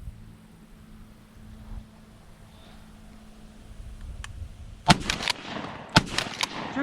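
Shotgun blasts during a dove hunt, a faint outdoor lull followed by two sharp loud reports about a second apart, each trailing off in open-field echo.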